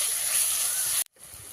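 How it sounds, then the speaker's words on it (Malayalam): Tomatoes dropped into a hot pan of crab roast give a loud, steady frying hiss that stops abruptly about a second in, then returns more faintly. "ഇനി തക്കാളി ഇടാം കേട്ടോ. 2 ചെറിയ തക്കാളി."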